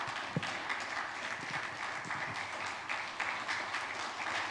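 A church congregation applauds to welcome its workers during a Sunday service, a dense, continuous wash of clapping from a large crowd that sounds moderately distant and does not let up.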